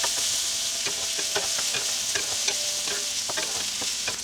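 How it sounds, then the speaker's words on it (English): Okra stir-frying in hot oil with cumin seeds, a dense continuous sizzle with rhythmic scraping strokes of a spatula stirring the pan, close and steady throughout, no voices. "Then I'm going to add my okra and stir it well."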